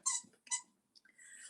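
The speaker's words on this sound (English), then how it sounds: "right now we're experiencing a dog playing with her favorite toy right now and squeaking it." A dog chomps on her favorite squeaky toy, producing two sharp, high squeaks about half a second apart, then softer faint squeaks and a steady hiss from a quiet indoor service setting.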